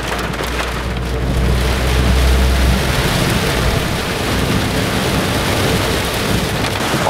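Heavy rain pouring steadily on Rapa Nui, a dense, continuous hiss at constant loudness with a deep low rumble through the first few seconds, no voices.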